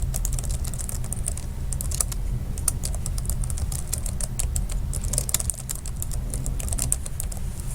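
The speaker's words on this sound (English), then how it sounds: "I can type it in the way I'd like" Rapid, uneven clatter of fingers typing on a computer keyboard, close and fairly quiet, with irregular bursts of keystrokes continuing throughout without any voice.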